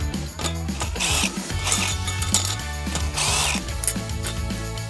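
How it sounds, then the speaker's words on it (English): A hand ratchet clicks in repeated bursts while loosening the nuts and bolts on the tension bands of a chain-link fence. The sound is close and steady, with music playing underneath. "when you take the nuts and the bolts out from the tension bands"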